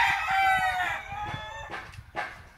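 A rooster crows loudly and close by, one long drawn-out call with a rising then wavering tone, followed by a couple of shorter clucks near the end, with no talking over it.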